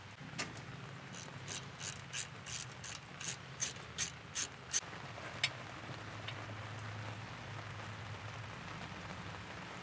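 Ratchet clicking quickly while loosening a 12mm bolt on a modern Subaru rear brake hose, a crisp run of ticks that thins out, all fairly faint over a soft background hiss.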